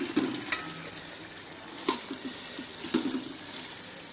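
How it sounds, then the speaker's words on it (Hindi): Koftas dropped into masala curry frying in a pan, with steady sizzling throughout and a few soft plops and stirring knocks scattered through it, no talk. "अब हम इसके अंदर ये कोफ्ते डालेंगे"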